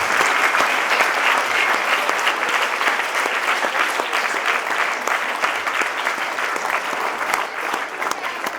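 An audience claps at a CBSE school award ceremony in Mohania. The applause is loud and sustained, a dense patter of many hands lasting several seconds without pause.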